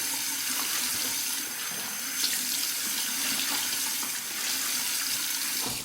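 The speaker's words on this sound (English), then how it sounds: "do you have to splash the water on your face so vigorously and violently?" Running water from a sink tap with splashing as water is thrown onto a face, a steady broadband rush with irregular splashes throughout, close and fairly loud, no talking.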